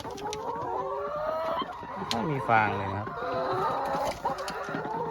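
Laying hens in a straw-bedded coop cluck and squawk continuously, one louder drawn-out call rising in the middle, while someone speaks over the flock.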